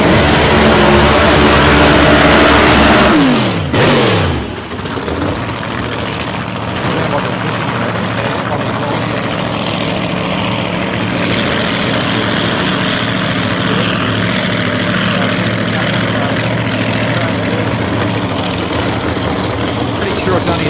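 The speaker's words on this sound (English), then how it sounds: "Now, Shane Baxter, a little blown altered. Sounds fantastic. I love the length of the pipes coming up." Supercharged blown altered drag racing car, reportedly a 307 cubic inch engine with long upright exhaust pipes, roaring loud and close at a raceway for a few seconds, then a sweeping drop as it pulls away into sustained distant engine noise.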